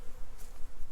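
Honeybees buzz near their hive during fall preparation, a faint steady hum over a short moment with no speech.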